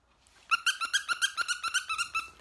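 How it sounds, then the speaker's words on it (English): A dog gives a quick run of about a dozen high, whiny yelps or barks in an even rhythm, close by and fairly loud, with no talk over it. "now I can pet my dog with the free hand"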